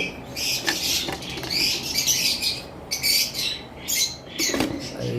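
Lovebirds at a bird farm chatter and squawk in a dense flock, with sharp overlapping chirps and calls close by and no talking.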